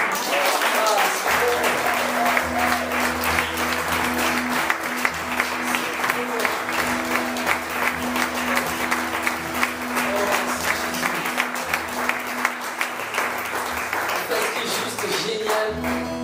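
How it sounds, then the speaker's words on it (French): A church congregation applauds and cheers after worship, sustained rhythmic clapping with crowd voices and a held musical tone underneath, loud and continuous throughout. "Est-ce qu'on peut l'acclamer?"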